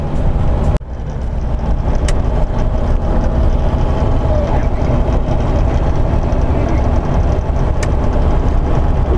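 A truck drives along a road after a rain, with steady, loud low engine and road rumble throughout and a brief dip near the start.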